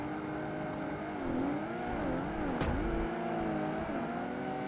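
A race car engine in Project Gotham Racing 2 holds a steady drone whose pitch dips and rises through gear changes and corners, close and continuous, with a brief sharp scrape partway through.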